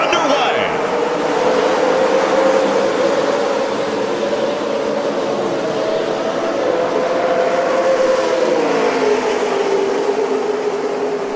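A steady, loud roar of many NASCAR Camping World Truck Series race truck engines droning together at Daytona with a rising pitch sweep, continuous throughout with a faint voice underneath.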